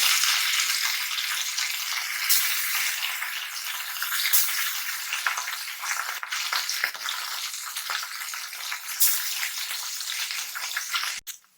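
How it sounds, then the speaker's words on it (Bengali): Chapila fish fry in white oil with a loud, dense, continuous sizzle close by, crackling and hissing without pause, with no one speaking. "আমরা সাদা তেল দিয়ে দিব আমরা প্রথমে মাছগুলো দিয়ে দিব"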